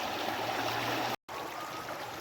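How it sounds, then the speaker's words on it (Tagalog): A stream where watercress grows, flowing as a dense, steady rushing wash close by, with one very brief dropout partway through. "Yan, tingnan nyo yung agos ng tubig."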